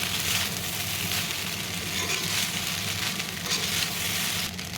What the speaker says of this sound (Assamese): গোটেইখিনি মিক্স কৰি ধুনীয়াকৈ ভাজি ল'ম। 2-3 মিনিটমান ইয়াক ভালকৈ ভাজিম।